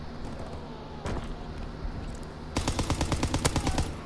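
Sterling submachine gun in a video game firing a rapid burst of about a dozen loud, evenly spaced shots, preceded by a single isolated shot and quieter game ambience.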